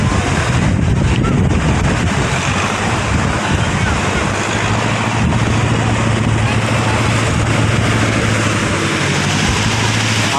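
Strong southwest monsoon wind over Manila Bay near small fishing boats: a constant, loud, rushing roar with wind buffeting the microphone and breaking surf, a faint low drone running underneath.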